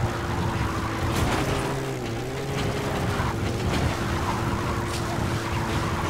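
A vehicle drives along in Metal Gear Solid V: The Phantom Pain, its engine humming steadily with a droning tone that rises and dips slightly throughout.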